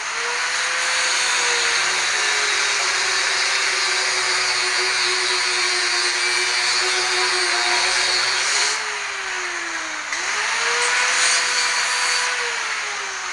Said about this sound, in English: saw off part of the rivet.